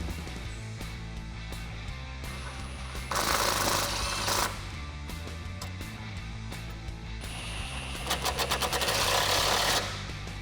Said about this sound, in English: we can take a 13mm socket and tighten those down